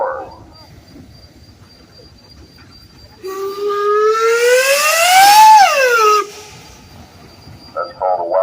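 A wildcat steam whistle on a 1924 Minneapolis steam engine, a 12-ton, 20-60 horsepower traction engine at a steam engine show parade, gives one loud, long blast that swoops upward and then falls away over about three seconds.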